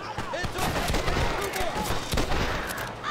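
Dense, continuous gunfire in Red Dead Redemption, with overlapping shots cracking rapidly in a loud barrage that fills the whole moment.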